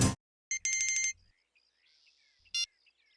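A phone rings with electronic alarm-like tones, a burst of rapid beeping pulses, a quiet stretch with faint chirps, then one more short ring, close and clear with no talking.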